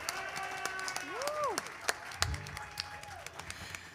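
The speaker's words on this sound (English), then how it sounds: "Give yourselves a round of applause." Applause and cheering from a live audience at the Song Suffragettes 7th anniversary show, a country music showcase for women songwriters. Scattered claps, a few whistles and crowd voices fill the room, with some claps standing out loudly.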